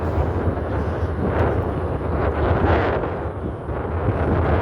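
Steady, broadband wind roar buffets the microphone throughout, with gusts swelling and easing but never dropping away.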